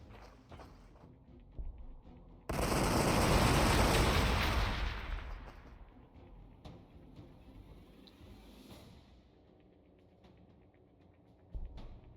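A loud burst of gunfire and explosive blasts in the Warhammer 40,000: Gladius strategy game, with Chaos Space Marines fighting T'au, crashing in for about two seconds before fading into quieter battle ambience with scattered shots.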